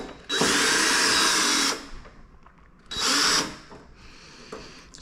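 Power drill backing out screws on a Harley-Davidson King Tour Pack: two loud whirring bursts, a long one and then a shorter one, with a fainter third run near the end, close-up and with no talk.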